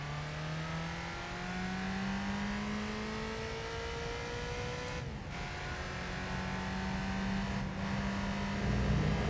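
A race car engine in Gran Turismo 3 revs through a second gear start, a steady droning whine whose pitch climbs, drops briefly at a shift, and climbs again, continuous and moderately loud with no talk.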